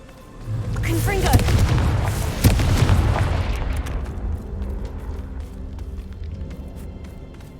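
Confringo fire spell blasts in the Hogwarts Legacy video game, a booming explosive burst that swells loudly around the middle, with a second sharp crack, then fades into a lingering rumble.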